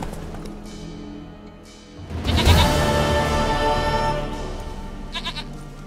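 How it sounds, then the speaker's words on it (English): A goat bleats loudly and close in The Witcher 3 game world, a drawn-out wavering cry rising after a quieter opening, set against soft ambient background sound. "Goat of mine, dearest,"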